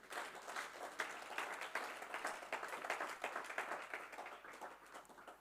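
A church congregation claps and applauds together, a dense, steady patter of many hands heard from a distance in a large room at moderate volume throughout.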